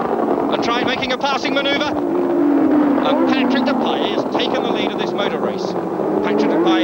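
A 1976-era Formula 1 race car engine howls at high revs, rising and falling with gear changes, loud and continuous beneath a commentator's voice.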